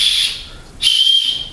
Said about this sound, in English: Chest strap with a whistle built in,